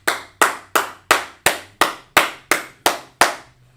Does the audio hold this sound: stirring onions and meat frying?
no